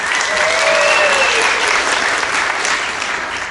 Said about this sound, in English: Let's give Victoria a round of applause for picking the card.